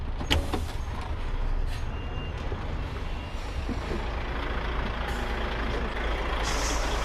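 HGV truck reversing with a trailer in a yard, with a low diesel engine rumble, hissing air and clanks, and faint mechanical noise throughout at moderate distance.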